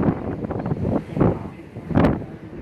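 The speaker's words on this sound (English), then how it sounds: "Very windy." Strong wind buffets the microphone on the deck of the Disney Wonder cruise ship, coming in loud, rumbling gusts that swell and fade about three times.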